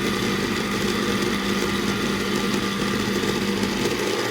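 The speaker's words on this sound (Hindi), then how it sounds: "आप देख सकते हैं कितना ज़बरदस्त जो है वो ग्राइंड हो रही है। अच्छी तरह आपने इसे ग्राइंड कर लेना है।" An electric grinder whirs loudly and steadily while grinding the ingredients for cardamom milk, a constant high motor whine with no breaks and no talking.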